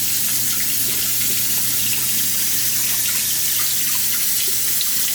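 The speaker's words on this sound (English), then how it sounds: "first thing we're going to do is we're going to wash our potatoes" Potatoes are washed under a running kitchen tap, a steady loud rush of water splashing continuously with no break and no voices.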